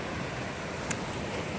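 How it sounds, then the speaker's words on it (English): At a beach, waves and wind wash in a steady, broad hiss of surf and gusting air, constant and close, with no talking. "I'm at the beach"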